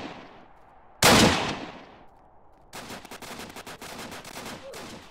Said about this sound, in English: Oh, I'll shoot him.